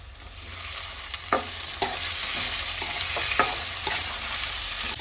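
Tomatoes and grated coconut frying in a pan for egg curry give a steady close sizzle, broken by a few sharp clicks of a spoon scraping the pan, with no voices.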